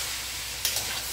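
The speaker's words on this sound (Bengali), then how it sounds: "এখানে দেখুন জল ছেড়ে ভাজা ভাজা হচ্ছে, এখন জলটা একদম শুকিয়ে গেছে" Fish frying in a hot pan after its water has cooked off, a steady close sizzle and crackle with a couple of brief sharper spits near the end, with no talking.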